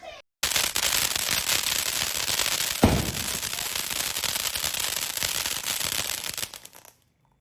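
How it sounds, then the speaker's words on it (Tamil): An SVR 25-shot firework cracker bursts in a long, loud, continuous crackling roar with one sharp bang near the middle, then fades out abruptly near the end. "குறைய சொல்ல முடியாத வெடி அப்படின்னா வந்து 25 ஷாட்ஸ் தான்."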